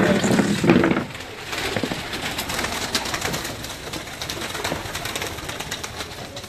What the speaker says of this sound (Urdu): یہ ہیں جی جوڑوں والے کبوتر عارف بھائی کے اور قیوم بھائی.